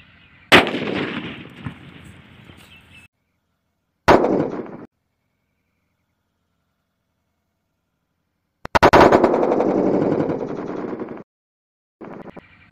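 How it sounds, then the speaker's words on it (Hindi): A VIP firecracker is lit and explodes between two watermelons, giving a loud sharp blast followed by crackling and a second short burst, then another loud explosion with sustained roaring crackle lasting about two seconds, with no talking. "आपने देखा वीआईपी का क्या धमाका"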